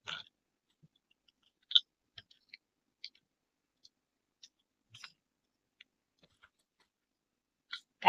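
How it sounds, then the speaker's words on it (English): Cured resin pieces popped out of silicone molds, sparse faint clicks and soft pops scattered across near-silence, with a louder snap near the start and another at the end. "I'm going to pop them out of the molds."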